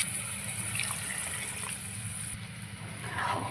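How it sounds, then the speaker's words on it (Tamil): Two cups of water poured into a simmering radish and drumstick gravy, a steady close splashing trickle with a hissy wash that runs for the whole stretch. "இப்போ இந்த குழம்புக்கு தேவையான 2 கப்பு தண்ணி ஊற்றிக்கிறோம்."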